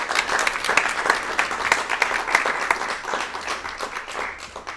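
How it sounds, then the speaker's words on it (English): Audience applause for performers after an interpretive works show, lively dense clapping with sharp individual claps standing out, close and continuous throughout. "Can we give them another round of applause, please?"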